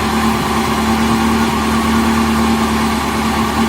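A Ferrari engine idles loudly and steadily nearby while warm, a constant low hum and rumble with no change in pitch.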